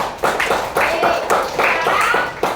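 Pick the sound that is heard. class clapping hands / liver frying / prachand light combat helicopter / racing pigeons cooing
class clapping hands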